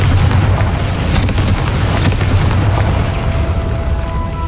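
A Confringo blasting spell detonates in Hogwarts Legacy, a loud booming explosion with rumbling debris that fills the moment, no talk over it.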